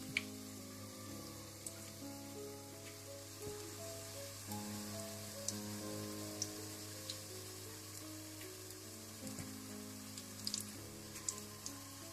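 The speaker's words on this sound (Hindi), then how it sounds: "अब मैं उबले हुए अंडों के पकोड़े बना लूंगी" Quiet, steady sizzling of boiled-egg pakoras frying in hot oil, with scattered small pops over a faint low hum.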